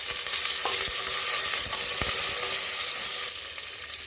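Curry leaves, a green chilli and dried red chillies sizzle in hot tempering oil with urad dal and cumin, a close, even hiss broken by a few sharp crackles and stirring taps.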